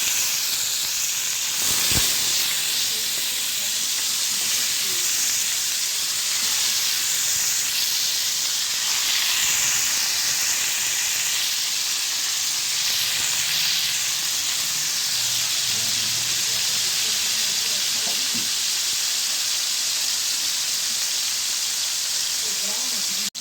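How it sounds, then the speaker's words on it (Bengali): Steady sizzling and hissing of rohu fish frying in hot oil, continuous and fairly loud throughout, with faint clatter and a muffled voice underneath. "তেলটা আমার গরম হয়ে গেছে এখন মাছগুলোকে একটু লাল লাল করে ভেজে নেবো"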